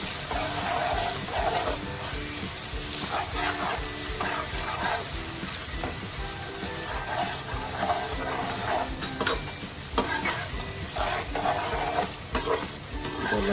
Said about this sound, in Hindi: एक दो मिनट इसको लहसुन अदरक के साथ मैं भूनूंगी